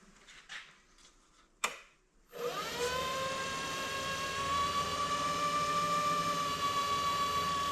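A wood lathe spins a patterned walnut box blank of end grain and sapwood at about 1200 RPM. After a few soft knocks and a sharp click, it spins up into a steady, close, whining hum with a strong tonal drone that holds to the end.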